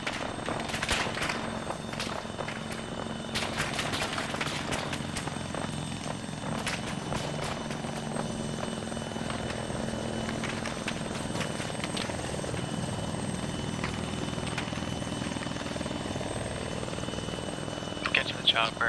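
A helicopter sets down in the ArmA 3 military game, its rotor and engine roar continuous and loud with sharp transient cracks, while voices talk over it.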